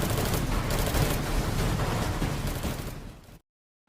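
Dense, continuous gunfire rattles through a video game battle, loud and unbroken for over three seconds before cutting off abruptly into silence.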